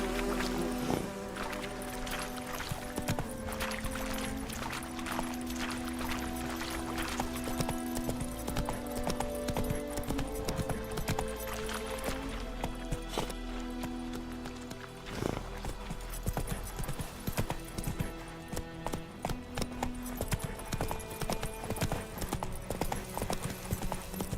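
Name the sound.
horse Roach galloping in video game The Witcher 3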